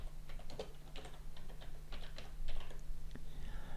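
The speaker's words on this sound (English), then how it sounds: "hit the enter key, and we'll type another line of text" Quiet, close typing on a computer keyboard, a quick uneven run of soft key clicks with a heavier tap near the end, likely the enter key.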